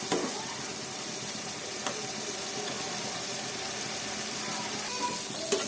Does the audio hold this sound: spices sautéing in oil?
yes